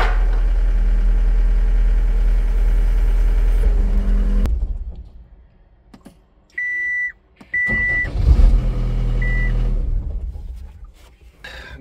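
A John Deere 300 Series skid steer track loader idles with a steady mid-pitched engine drone, then cuts to near quiet with several short electronic beeps before the engine rumbles again.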